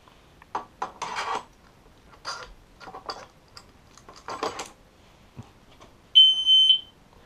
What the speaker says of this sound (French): Donc vous avez entendu un bip, donc ça signifie qu'il a détecté le disque et qu'il s'est mis sous tension.